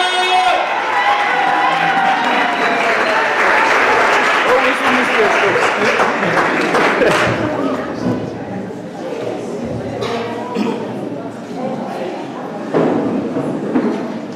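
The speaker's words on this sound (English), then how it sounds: "give him a round of applause" Audience at an Africa Day youth gathering clapping and cheering loudly for over ten seconds, the applause dense at first and then thinning, with shouts and voices mixed in.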